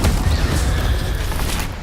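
Bursts from the Incendio fire spell in Hogwarts Legacy make a dense, loud, roaring whoosh that fills the short moment, alone without talking.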